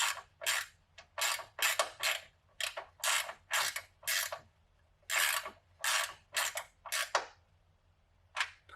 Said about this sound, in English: I'm going to go ahead and ratchet.